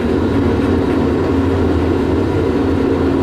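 Boeing 737 jet engines at take-off thrust with the landing gear coming up, a loud, steady broadband roar with a strong low rumble throughout, heard from inside the cockpit.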